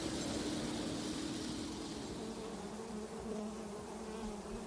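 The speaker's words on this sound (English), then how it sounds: "This beehive is swarming because it has 2 queens." A swarming beehive with two queens gives off a dense, steady buzz of many bees, close and continuous throughout, with no voices.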